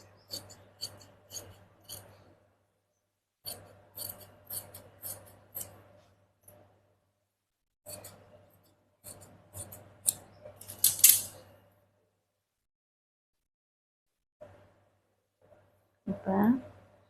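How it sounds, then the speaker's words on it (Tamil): Scissors snip through blouse fabric at the shoulder in short clustered bursts of crisp cuts with pauses between, close and clear, over a steady low hum and occasional faint speech. "இப்போ நம்ம ஷோல்டரில் கட் பண்ணி ஃப்ரண்ட்டை தனியாக எடுத்துடலாம்."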